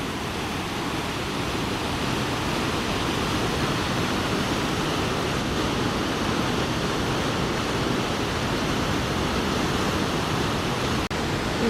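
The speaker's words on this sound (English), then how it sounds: "This is a pretty cool waterfall because it's cut in a gorge." Waterfall cutting through a rocky gorge, a loud, continuous broadband roar of rushing water that stays constant throughout with no voices.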